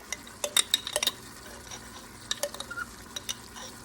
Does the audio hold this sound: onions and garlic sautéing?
yes